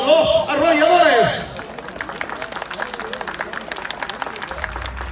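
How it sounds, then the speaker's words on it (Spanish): Crowd applause at a rodeo tournament in Kilgore, starting as a dense burst under a loud announcer's voice, then settling into steady, continuous clapping and cheering. "denle un aplauso, Rancho Los Arrolladores"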